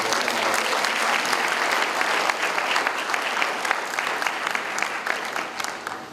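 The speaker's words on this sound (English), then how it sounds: "Please join me in giving him another round of applause" An audience applauds Professor Chung Bui, director of the program, with a steady, dense wash of clapping that holds at full strength for about six seconds before thinning slightly at the end.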